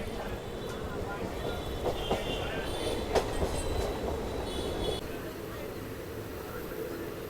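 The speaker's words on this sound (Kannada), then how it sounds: "ಇದು ನಾವು on time departure ತೊಗೊಂಡ್ಬಿಟ್ಟಿದ್ದೀವಿ Mandya railway ಸ್ಟೇಷನಿಂದ." The Wodeyar Superfast Express, hauled by a WAP 7 electric locomotive, rolls out of Mandya station. It is a steady rumble heard from inside a coach, with faint clicks of the wheels over the rail joints and some muffled voices.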